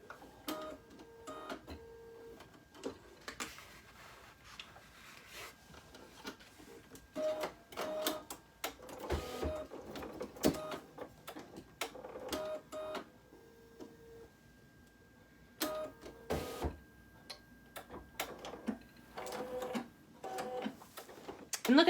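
An embroidery machine stitches small chick eyes in black Isacord thread, a quiet rapid ticking and whirring that runs in bursts with brief pauses between them.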